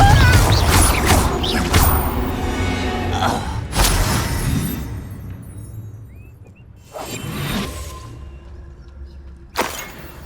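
Spell impacts from a Confringo blasting charm in the Hogwarts Legacy video game: several sharp, loud bursts with crashing debris and whooshes, spaced apart with quieter ringing gaps in between.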